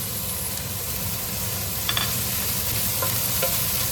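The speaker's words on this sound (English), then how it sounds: "Just stir fry the brown pork." Pork sizzles steadily in a hot pan, with a few brief clinks and scrapes of a utensil stirring it, close and continuous.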